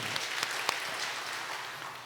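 Steady applause from a church congregation during a Sunday service, a broad, even patter of many hands with a few sharper claps standing out, filling the room at a moderate distance and fading slightly toward the end.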